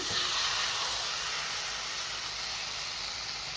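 Curry leaves sautéing in a pan for karuveppilai thogayal, giving a steady, soft hiss of frying that holds even throughout, with no voices.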